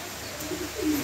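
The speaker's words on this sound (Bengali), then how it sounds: "আজকে বেশ অল্প কিছু কবুতর দেখাচ্ছি।" Pigeons kept for sale give soft, low cooing calls, a couple of murmuring coos rising near the end of a brief stretch, heard close over faint background noise.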